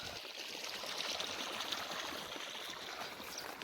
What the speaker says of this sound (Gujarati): આપણો બીજો રેલો અહીંયા ચાલુ છે એ જાય પાણી આમાં